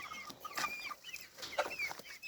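Several chickens cluck softly nearby on a farmstead, scattered short calls over a quiet background.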